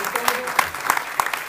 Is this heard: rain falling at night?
no